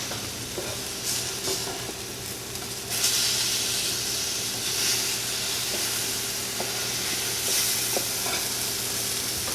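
Banana chocolate chip pancakes fry in a pan on lowered heat, a steady close hiss and sizzle running throughout, with a few faint clicks and a brief louder swell near the start, and no voices.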